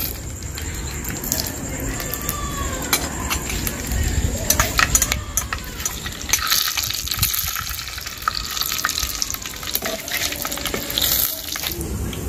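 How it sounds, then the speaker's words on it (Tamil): Fenugreek seeds dropped into hot oil in a pan for tempering, sizzling and crackling steadily at close range, with clinks and stirring noises and some speech alongside. "நம்ம வெந்தயம் போட்டு தாளிச்சுக்கிறோம்."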